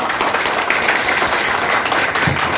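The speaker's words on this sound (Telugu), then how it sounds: "Give him a big clap." At a Janasena party meeting in Tirupati, an audience gives Kiran Royal a big round of applause, with dense, loud clapping that runs steadily throughout.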